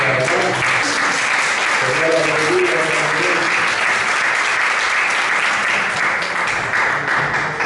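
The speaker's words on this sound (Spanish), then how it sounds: "Demos gracias al Señor y un aplauso a Dios" A church congregation breaks into sustained, even applause that fills the room for several seconds, with a voice briefly heard at the start before the clapping dominates.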